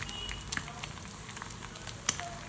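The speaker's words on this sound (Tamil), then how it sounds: "ஒரு முட்டையை வந்து இதில் உடச்சி ஊற்றுவோம். அடுப்பை சிம்மில் வச்சுக்கோங்க." An egg sizzles gently in a pan over a low flame: a soft, steady hiss close by, broken by a few small pops and ticks, with no talking.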